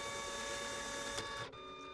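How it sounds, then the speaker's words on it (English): Electronic printer in a video game running steadily with a constant mechanical whir and tonal hum that cuts off sharply near the end, fairly quiet, with no talking. "That printer always sounds like an angry animal devouring something."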